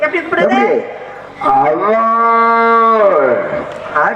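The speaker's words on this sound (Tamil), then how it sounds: "இந்த மாடு இந்த மாடை கூப்பிடுது" Cow mooing loudly and close in a pasture, a long drawn-out call to another cow, rising then holding steady before tailing off, with a shorter lowing sound just before it.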